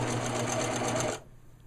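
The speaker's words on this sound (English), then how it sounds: "whenever I'm sewing two edges together like this right here" A sewing machine stitches tree tent fabric in a fast, close, steady whir for about a second before stopping abruptly, leaving near silence.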